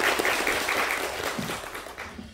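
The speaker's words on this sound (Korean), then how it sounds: "박수로 환영 부탁드리겠습니다." An audience at a university admissions information session applauds in welcome, a brief spell of dense, steady clapping that tapers off slightly toward the end.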